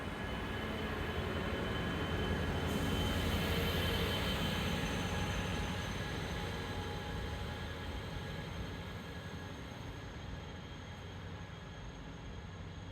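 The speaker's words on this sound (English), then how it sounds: "that Surfliner starts to pull away" Pacific Surfliner passenger train pulling away from a station between Anaheim and San Diego, a steady broad rumble with a faint high whine, fairly loud and slowly fading as it leaves, no voices.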